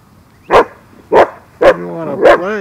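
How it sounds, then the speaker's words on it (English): A guard dog barks four times in steady, evenly spaced bursts, loud and close, with a short whimpering tail after the last two barks and no talk over it. "Perfect guard dog."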